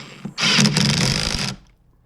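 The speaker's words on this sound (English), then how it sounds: "Use an impact wrench to tighten the bolt." An impact wrench tightening the steering wheel bolt on a Mustang during a paddle shifter installation, a single rattling burst of about a second with rapid hammering, close and loud, starting and stopping abruptly.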